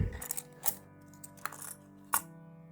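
A handful of old coins found in a house clink and jingle as they are handled and dropped, with a few distinct metallic impacts standing out against a faint background hum.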